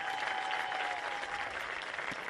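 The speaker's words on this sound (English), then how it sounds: "Let's give them a nice round of applause." Distant, even applause rises from the stands at a 2020 high school football homecoming between Whiteland and Martinsville, greeting the homecoming princess candidates. It stays soft and sustained, with a faint crowd murmur.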